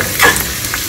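Ingredients for a South Indian chutney frying in oil over medium heat, a brief loud close sizzle with a quick stir, under a second long.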